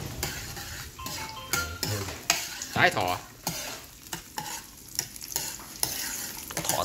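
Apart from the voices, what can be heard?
garlic frying in oil in pan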